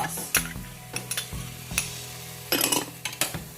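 Oyster sauce and sweet chili sauce stirred together in a pan, with scraping utensil strokes and clinks in irregular bursts over a faint sizzle, close and fairly quiet.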